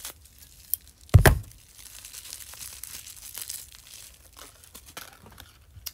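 Scissors snipping and tearing open doll toy packaging, one sharp loud cut-and-tear burst followed by quieter crinkling of the plastic and card.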